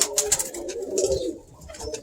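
Birmingham Roller pigeon giving steady low coos over about two seconds, close and clear, mixed with a few faint higher chirps and light rustling, with no voices.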